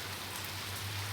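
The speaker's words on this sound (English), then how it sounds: "watching the rain" Evening rain falls steadily, giving a soft, even hiss of drops on surfaces at moderate distance, quiet and uninterrupted, with a faint low hum underneath and nobody speaking.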